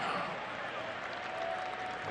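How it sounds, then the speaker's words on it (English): Stadium crowd applauds a soccer player leaving the field as a substitute in a Tampa Bay Rowdies versus Louisville City FC match, a steady, distant wash of clapping mixed with murmur and commentary over it. "He should get a nice round of applause"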